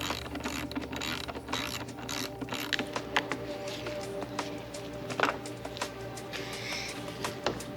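Hand ratchet clicking steadily as screws come out of the rear of a BMW X5, a close, busy run of fast pawl clicks with a few sharper knocks, no talking.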